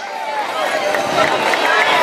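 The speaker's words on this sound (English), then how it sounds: "Let's give all of the students a round of applause for the wonderful and excellent job tonight." An audience at an evening school Word Parade applauds the students, a dense, continuous wash of clapping that swells slightly over two seconds.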